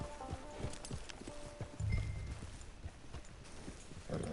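Rhythmic clip-clop of horse hooves in the video game Red Dead Redemption, steady close footfalls throughout with a brief low snort partway through.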